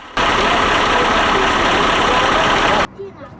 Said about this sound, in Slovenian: Za njegov pogon je skrbel 8-valjni Magirus-Deutzov motor z 2 turbinskima polnilnikoma.